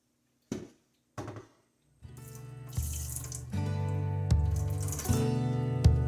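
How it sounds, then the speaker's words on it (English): Whey pours off mozzarella curds in a steady close stream into a container, preceded by two short knocks, with the flow running continuously and bubbling for several seconds. "my stirring is actually incorporated into while I am pouring the whey"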